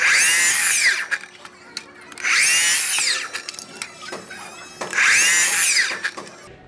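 A Milwaukee miter saw makes a test cut, sounding as three loud, high whining spin-ups and cuts of about a second each, with quieter clicks and handling noise between them.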